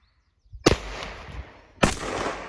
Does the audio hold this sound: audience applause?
no